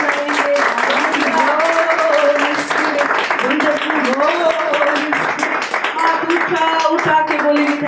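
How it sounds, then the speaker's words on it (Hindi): Congregation claps loudly and continuously at a Hindi Christian worship service, with music and a preacher's voice running over the steady applause throughout. "उसके लिए जोरदार ताली बजाएंगे।"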